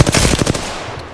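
Rapid automatic gunfire in the Apex Legends game: a fast burst of about eight loud, close shots in quick rhythm, then a fading tail.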